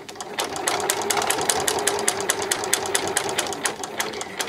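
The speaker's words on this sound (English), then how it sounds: "So I'm just gonna sew all the way around the pocket." A sewing machine stitches steadily around a pocket on a pair of jeans, its needle pounding out a fast, even rhythm of close, loud strokes with no talking.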